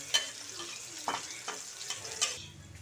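Garlic frying in a pan with onion for squid adobo, a steady soft sizzle with a few stirring scrapes and clinks, close and alone.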